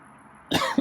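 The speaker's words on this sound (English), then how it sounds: "I think I'm gonna cough." A person gives a short, single cough followed by a brief second catch of the throat, close and sudden after a quiet room.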